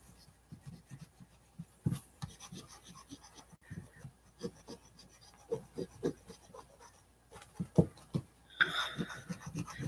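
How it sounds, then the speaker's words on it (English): A file rasps against an art doll in short, irregular strokes, soft and close, with quiet pauses between bursts of scraping. "But the file is more aggressive than the sandpaper."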